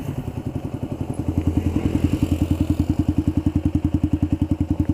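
Yamaha Xabre fitted with a Tridente F22 carbon exhaust in racing mode, idling close by with a deep, bassy, regular thumping pulse that stays steady and loud.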